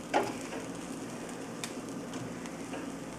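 Copycat Chick-fil-A nuggets cook in a Ninja Foodi air fryer, giving a low, steady fan-driven hiss with faint crackles and a few soft clicks, quiet and continuous.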